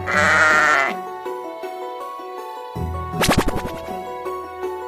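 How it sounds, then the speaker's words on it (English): Sheep bleating, one loud wavering baa at the start over light background music, followed by a quick plucked musical flourish. "sheep,"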